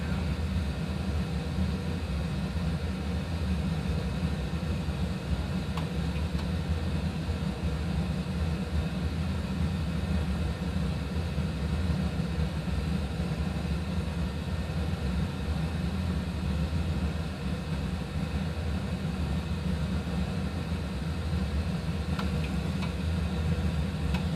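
Airliner engines in a flight simulator, climbing just after takeoff from Vienna, make a steady, even drone with a low rumble and broadband hiss that continues unchanged throughout, with no voices.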